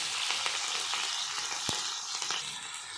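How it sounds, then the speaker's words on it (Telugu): Green chillies and garlic fry in hot oil with cumin and mustard seeds in a kadai, making a steady, close sizzle with scattered pops and crackles and no talking. "ఇవి కొంచెం లైట్ బ్రౌన్ కలర్ వచ్చే వరకు ఫ్రై చేసుకొని"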